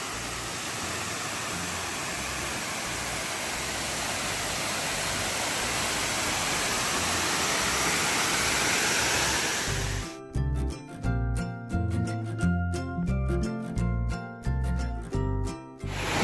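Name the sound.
Erie Falls waterfall at Ricketts Glen State Park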